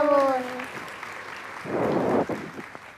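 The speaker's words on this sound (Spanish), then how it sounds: "Fuertes aplausos, por favor." Applause breaks out at a school assembly for Mother's Day, a brief patter of clapping from the audience that swells near the end of the clip after a short held tone at the start.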